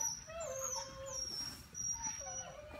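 A puppy whimpers softly with faint, high, thin whines and yips, quiet and close over a low background hum.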